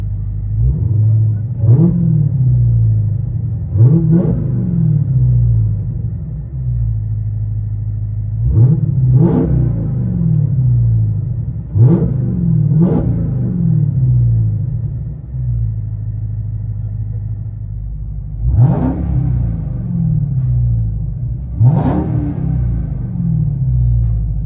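From inside the cabin, a Dodge Charger Hellcat's 6.2L supercharged HEMI V8 rumbles deeply at idle and is revved about eight times. Each rev swells loudly and then falls away.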